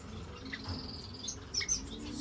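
Caged birds kept for laying chirp with short, bright tweets at close range over a low background hum, several quick calls bunched near the end.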